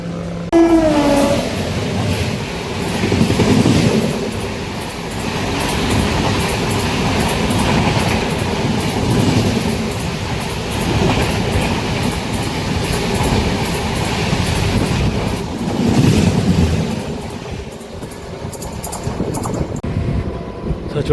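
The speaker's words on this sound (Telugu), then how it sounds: "ఎందుకంటే ఆపోజిట్ ట్రాక్లో ఒక ట్రైన్ అయితే వస్తుంది." A train passes on the opposite track at Rayanagudem railway station, a loud continuous rumble and clatter of wagons rolling by up close, with a brief horn near the start and a rhythmic clack throughout.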